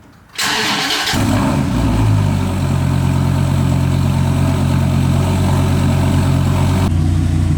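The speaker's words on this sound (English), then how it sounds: "Cold start." A 2013 Dodge Viper fitted with a full aftermarket exhaust and Belanger catbacks cold-starts in a garage: a short crank, then the engine catches into a loud, deep, steady idle that runs for several seconds before cutting off near the end.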